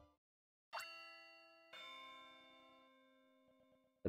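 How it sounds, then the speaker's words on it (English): A school bell in the Pokémon Ranger video game rings out in two clear struck chimes with long ringing tones, followed by softer repeating tings as the sound decays. "The bell is ringing."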